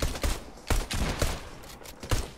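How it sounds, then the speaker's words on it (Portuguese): Gunfire in a Fortnite shootout: several sharp shots come in an irregular burst, moderately distant and fairly quiet, with almost no talk over them. "Ó, já tá tendo tiroteio."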